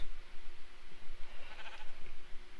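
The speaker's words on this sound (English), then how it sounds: "Why are there so many freaking sheep?" Sheep bleating in the Minecraft video game, several short faint bleats scattered over a quiet background with no talk.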